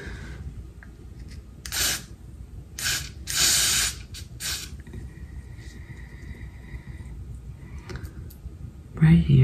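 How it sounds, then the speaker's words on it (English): Hair spray misted close up onto a sew-in weave set with rollers, coming in several short hissing bursts of uneven length with quiet pauses between them. "So I'm going to go ahead and apply this spray."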